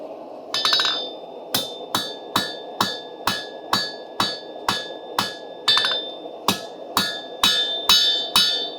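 Bladesmith refining a blade point with a lighter hammer on steel, about a dozen sharp ringing strikes in a steady rhythm with a brief quicker flurry near the start, close and loud with no talking.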